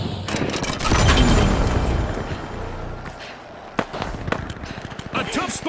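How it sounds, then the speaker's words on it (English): A gas grenade going off in the shooter game The Finals, with a dense burst of hissing, clattering game noise, then sharp pops and mechanical clicks amid ongoing gunfire. "Using gas grenade."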